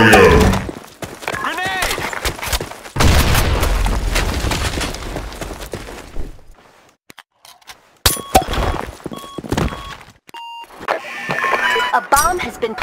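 A grenade blast in the Blackshot online shooter, a loud booming explosion with crackling debris among gunfire bursts and game effects, with shouted voice callouts.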